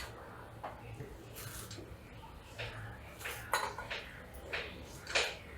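A knife chops washed coriander leaves on a board while making a paneer chilla, giving soft, irregular cuts and light clinks over a constant low kitchen hum, fairly close.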